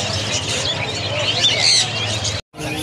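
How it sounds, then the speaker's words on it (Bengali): Budgerigars chirp in a crowded stall at the Galiff Street bird market in Kolkata, a dense, steady twittering close by that cuts off briefly near the end. "কত বদ্রি পাখি এখানে রয়েছে।"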